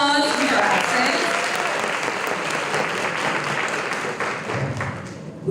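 A crowd at a school debate finals event gives a full round of applause, loud and steady clapping that slowly thins out toward the end.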